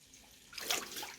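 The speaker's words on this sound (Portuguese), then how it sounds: "para fazer menos barulho de água" Running water, likely from a tap, rushes in softly after a quieter opening, a steady splashing hiss that swells and holds close by with no voices.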